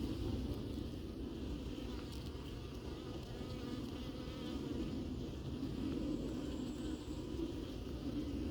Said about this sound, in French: Ça y est, frelon capturé. Il a fait une erreur et il est monté en haut de la tente.